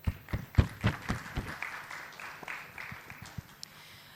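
A small conference audience applauds. A burst of loud, uneven hand claps fades over a few seconds into scattered, sparse claps.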